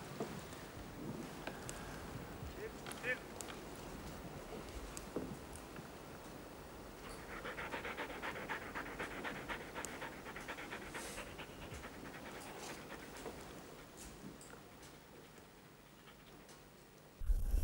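A hunting dog pants steadily and close in an outdoor setting during fox hunting, a continuous rapid rhythm of breaths over faint wind, ending with a brief louder knock.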